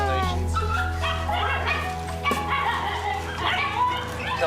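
A puppy at a stray dog adoption event yips and whimpers in repeated short high cries close by, over a steady low hum with people talking faintly in the background.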